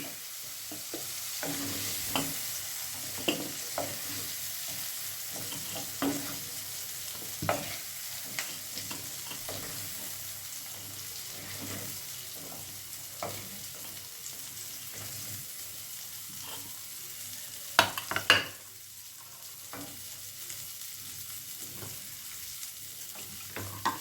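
Vegetables coated with turmeric, chilli and salt sizzle quietly in a pan for a vegetable curry, with a spoon scraping and tapping at intervals and one louder clatter near the end.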